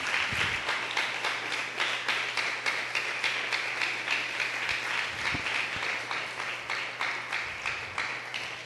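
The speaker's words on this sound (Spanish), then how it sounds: "Bríndele un aplauso al Señor en esta noche, por favor." A church congregation applauds the Lord during an evening sermon, steady rhythmic unison clapping that carries on throughout at an even pace, with a low hum beneath and no talking.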